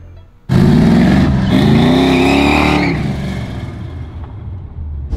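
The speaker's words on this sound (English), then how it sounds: "here we go for a cruise in Dennis's 68 Camaro" A 1968 Chevrolet Camaro's V8 roars to life and revs hard, a loud sustained engine note rising in pitch under acceleration for a few seconds, then easing into a steadier cruising drone as the car drives on.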